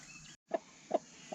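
A broody hen settling over her egg gives three short, soft clucks, evenly spaced and close by, against quiet background noise.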